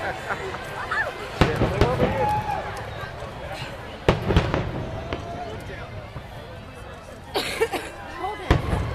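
Fireworks at the Kaboom Town show in Addison, Texas boom and crackle in several sharp bursts spread over the clip, heard from within a chattering crowd with people talking nearby.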